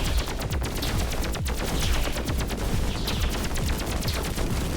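Enemy bullets fire in the video game Pathogenic as a dense, continuous barrage of rapid shots, loud and steady throughout with no talking.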